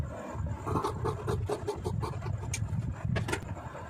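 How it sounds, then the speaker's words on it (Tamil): Scissors cut through lining fabric for a blouse, making steady close rasping and rubbing snips in an irregular rhythm, with no talking. "இது அப்படியே கட் பண்ணிடுவோம்"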